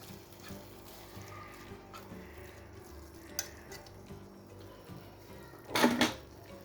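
Spinach filling with spices for börek being stirred in a bowl, with soft, quiet mixing and scraping sounds and a brief, louder clatter near the end.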